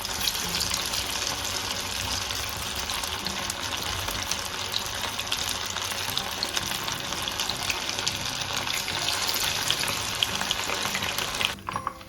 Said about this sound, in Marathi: आता आपण हे पनीर तळून घेणार आहोत.